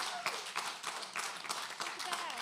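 Applause from the audience at a recovery gala in Springfield, Vermont, with dense, steady clapping through the clip, fairly quiet and blended with crowd noise and faint voices.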